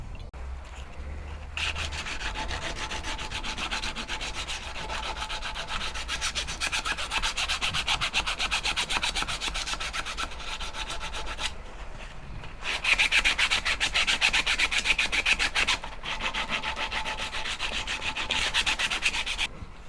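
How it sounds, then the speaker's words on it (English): Continuous rasping of sandpaper worked over the handle of an all-metal dagger, close and steady with fine rapid strokes, briefly pausing and then resuming a little louder, with no talking. "Then I'll start sanding down this handle and just fixing these little bits that are damaged."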